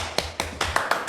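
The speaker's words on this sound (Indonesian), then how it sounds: "Tepuk tangan nih." A handful of sharp hand claps, about six, land in an uneven rhythm, close and fairly loud, with no one speaking.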